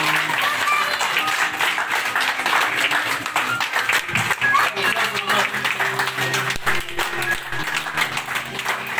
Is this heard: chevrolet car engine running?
no